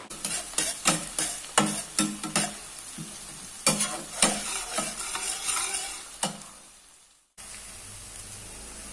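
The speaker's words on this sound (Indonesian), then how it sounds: "Menggoreng ini kita gunakan api yang kecil ya teman-teman, sambil kita aduk-aduk." Chili and kecombrang fry and get stirred in a pan over a low flame for tomato sambal, giving a steady sizzle broken by a series of rhythmic scraping stirs. The sound cuts off abruptly near the end.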